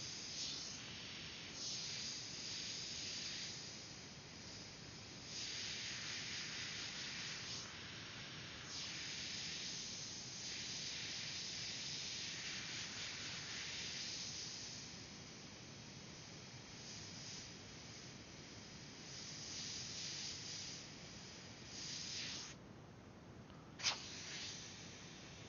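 An airbrush sprays paint onto a Kobe Bryant stencil in soft, steady hissing bursts that swell and fade with each pass, faint and close, ending with a small click.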